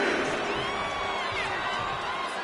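A large arena crowd in WWE 2K25 cheering during a wrestling match, a steady roar with whoops and shouts rising and falling, with a commentator's voice faintly underneath.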